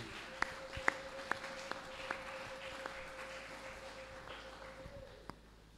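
A church congregation breaks into scattered applause, a handful of sharp, separate claps that thin out and fade over a few seconds, faint and somewhat distant.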